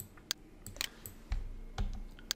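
Typing on a computer keyboard, a short run of separate crisp key clicks, close and fairly quiet, with no talking.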